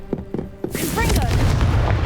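A Confringo explosive spell goes off in Hogwarts Legacy, a short burst of talk giving way at once to a loud, sustained booming blast with crackling debris that fills the rest of the moment.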